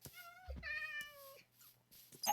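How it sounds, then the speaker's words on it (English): Several cats meowing in Minecraft, clear harmonic meows one after another, close and fairly loud, with a short pause before a final brief sound, no talking over them. "I have found where all the cats went."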